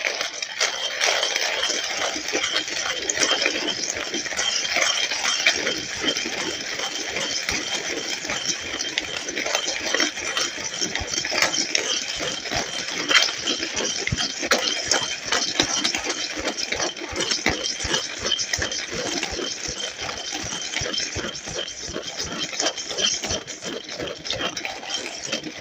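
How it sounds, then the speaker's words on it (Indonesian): A cheap electric coffee grinder grinds coffee beans for a moka pot, giving a steady, buzzing mechanical whir with a gritty rattle that runs unbroken and fairly close throughout. "Nah, oke, langsung aja kita giling."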